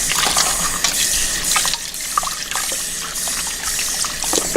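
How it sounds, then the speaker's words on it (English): Warm tap water runs steadily over frozen mussels in a kitchen, a loud continuous splashing rush with small irregular spatters and no talking. "I'm going to clean it with warm water since it was in the freezer."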